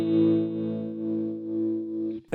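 Guitar through a Vox AC30C2 amp with the tremolo depth turned up, a single sustained chord pulsing in slow, gentle volume waves for about two seconds before cutting off.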